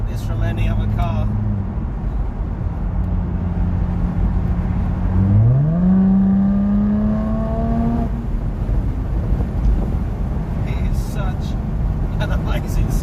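Supercharged 3-litre V6 in a Jaguar F-Type P380 droning at a steady idle, then revving up sharply in one rising sweep and holding high before easing off, with road and wind noise throughout.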